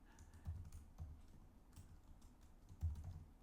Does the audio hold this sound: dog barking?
no